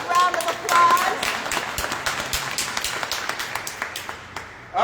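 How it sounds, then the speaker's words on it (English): Audience applause at a memorial celebration of life, a dense burst of clapping that gradually thins into scattered individual claps before fading, with no talking over it. "All right, big round of applause."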